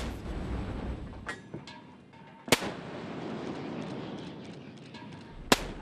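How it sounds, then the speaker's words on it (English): A Mark 45 5-inch naval gun on a warship fires, giving sharp, booming reports with a couple of louder cracks and a few smaller ones, spaced seconds apart over a low, steady background rumble. "Fire the Mark 45."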